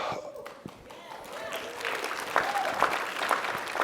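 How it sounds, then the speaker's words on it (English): An audience at a sales role-play seminar starts clapping: scattered claps that build into steady, moderately loud applause over a few seconds. "I don't know why you're clapping, I haven't started."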